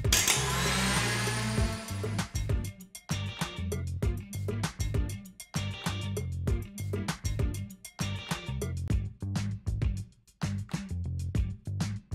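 Stand mixer whisk whipping egg yolks and sugar for a fraisier, a steady motor whir at first, then stopping and starting in many short bursts, close and without talk.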